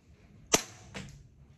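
A KJW CZ Shadow 2 airsoft pistol fires a single sharp, loud shot through a chronograph, with a fainter second snap about half a second later, in an otherwise quiet room.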